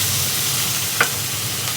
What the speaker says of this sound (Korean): 고추도 넣어주고 그 다음에 고기가 어느 정도 익었으면 물을 한 180ml 정도 이제 넣어줍니다